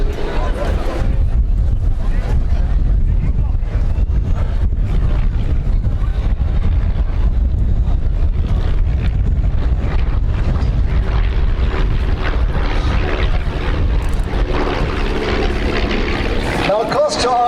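Tiger Moth biplanes fly in formation at an airshow, their propeller engines droning over strong microphone wind buffeting, with a commentator talking throughout.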